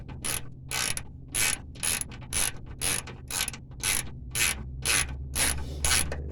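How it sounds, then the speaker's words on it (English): A ratchet on a short 15 mm socket clicks in quick repeated bursts, about a dozen rhythmic strokes close by, as bolts are broken loose on a 1997 GMC fuel pump, no voices. "use a short socket 15 millimeter and just break these bad boys loose"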